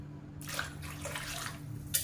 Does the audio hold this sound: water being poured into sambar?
yes